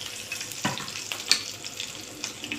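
Green chillies frying and spluttering in hot oil in a pan, a steady close sizzle broken by a few sharp pops and crackles, with no talk.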